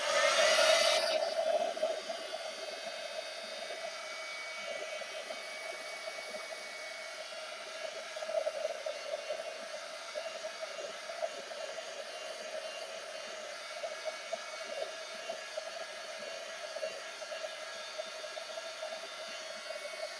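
A hair dryer blows steadily on a mixed-media journal page made with a printed image on deli paper, giving a constant close whir and airy hiss after a short louder burst at the start.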